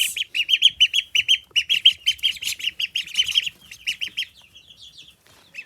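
Rapid high-pitched peeping from baby ducks, many quick chirps overlapping close by, thinning out toward the end.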